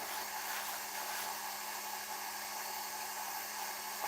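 Wood lathe spinning a beech bowl at 700 rpm, giving a steady, even high-pitched whir with a broad hiss, constant and unbroken throughout with no voices.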